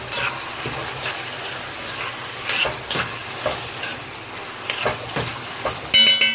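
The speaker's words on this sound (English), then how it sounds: "So I went ahead and put in my saltfish. I'm just giving it a little bit of stir." Saltfish cooks in a pan with a steady oily sizzle while a utensil stirs it, scraping and clinking against the pan in irregular strokes, with a louder clatter near the end and no talk.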